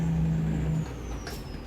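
A Mack F700 truck pulling a Fruehauf 5000 tanker in American Truck Simulator brakes hard. A steady engine drone cuts off partway through, then a brief hiss of air brakes follows at moderate volume.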